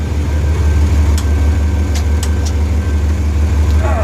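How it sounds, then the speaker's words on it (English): A TM1200 tractor engine idles close by with a loud, steady low rumble, a few brief clinks sounding over it and no one talking. "Shut the tractor off again."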